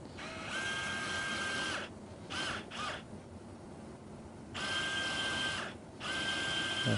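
A 4.5 mm flexible reamer drills a femoral tunnel during ACL reconstruction surgery, giving a loud high-pitched powered whine in several bursts. Two long runs frame a few short stop-start pulses.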